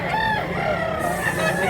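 A gamefowl rooster crows clearly among chickens for sale at a market in Mantalungon, Cebu, with one drawn-out crow near and loud over other fowl.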